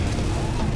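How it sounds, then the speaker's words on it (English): A grenade explosion in the video game Halo: Reach, a loud, dense boom with a rumbling low end that fills the short moment, with speech faintly present. "Guess I'll just throw grenades at you."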